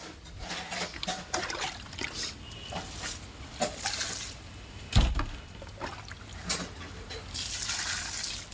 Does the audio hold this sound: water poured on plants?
yes